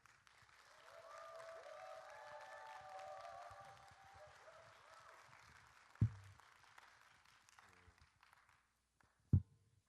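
A church congregation applauding to welcome the pastor to the pulpit, a soft, distant spread of clapping that swells and fades, followed by a couple of sharp thumps.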